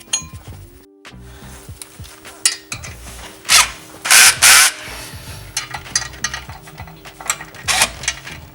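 A ratchet works on bolts of a 2JZ engine, with repeated rasping clicks and metallic clinks in short bursts, plus a few louder close scrapes.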